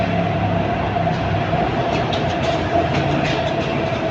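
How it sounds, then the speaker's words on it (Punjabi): A Paris Metro Line 2 train near Barbès station rumbles steadily past with rhythmic wheel clatter and a constant droning hum, loud and close, no voices. "ਇਹ ਹੈਗੀ ਮੈਟਰੋ ਲਾਈਨ ਨੰਬਰ 2"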